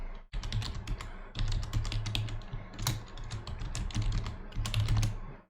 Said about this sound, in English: I apologize if y'all can hear my keyboard clicking.